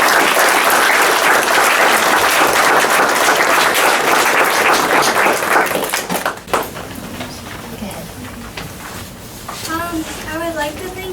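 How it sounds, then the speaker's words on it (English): Audience at a council meeting giving loud sustained applause for about six seconds, then fading out as a voice begins speaking over the quieter room. "we should really just again give them a nice round of applause"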